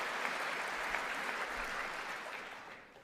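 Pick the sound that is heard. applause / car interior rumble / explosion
applause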